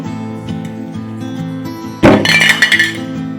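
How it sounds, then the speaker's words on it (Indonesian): A metal paint can tips off a shoe box and crashes down with a sharp clanging clatter and a few rattling bounces, loud and close, over a steady background hum. "kaleng cat tersebut langsung terjatuh ke bawah dan tidak beraturan arahnya"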